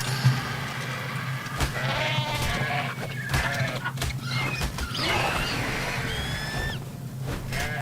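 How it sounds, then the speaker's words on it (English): Sheep bleat a few times in the video game Ark Survival Ascended, amid constant background noise and flapping, wavering calls repeating over a steady hum. "Is that a sheep? That's a sheep right there."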